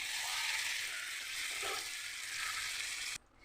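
Ridge gourd fries in a pan as mustard and poppy seed paste with green chili is mixed in, a dense, even sizzle that holds steadily and then cuts off abruptly near the end.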